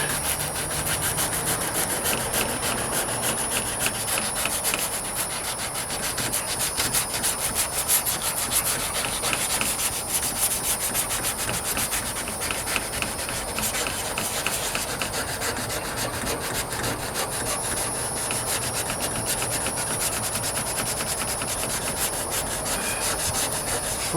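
Steady, continuous abrasive rubbing of sandpaper on the painted trunk and rear bumper of a 1998 Toyota Corolla, sustained close up without pause for the whole stretch.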